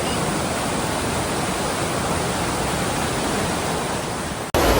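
Waterfall in Mindo, a loud, dense, unbroken rush of falling water heard close up, cutting off abruptly near the end.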